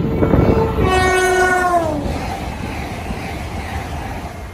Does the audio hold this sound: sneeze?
no